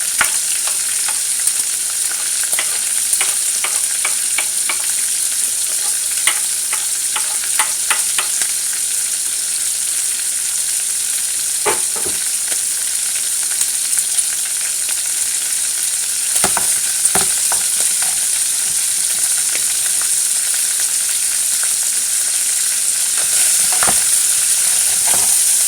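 Mushrooms and garlic fry in a pan, a continuous steady sizzle broken by scattered clicks and scrapes of stirring, with no talking.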